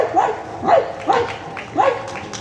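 At an award night in Kozhikode, a performer's voice mimics a dog with four separate barks spaced about half a second apart. The barks are close and clear, with faint speech-like sound between them.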